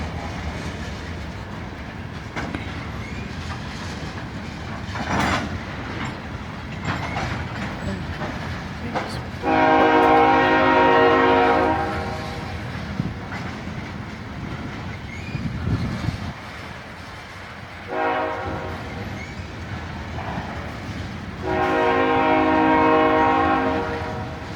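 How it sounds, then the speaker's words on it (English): A long, heavy BNSF tanker freight train rolls slowly past in Piscataway under a steady rumble, its horn sounding in loud sustained blasts, first for a couple of seconds, then briefly, then again near the end. "I see a BNSF tanker train today. Boy, it's going low speed."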